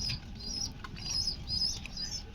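A pair of blue satin pigeons flapping their wings, soft, fluttering bursts with faint chirpy squeaks, close and fairly quiet, with no speech.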